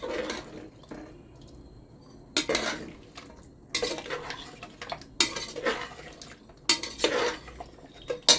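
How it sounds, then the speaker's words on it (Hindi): Whisked yogurt being stirred into mutton gravy in a metal pot, with repeated bursts of spoon scraping and clinking against the pot separated by short pauses, close and fairly loud, no talking. "थोड़ा थोड़ा डाल के हम मिलाते जाएंगे।"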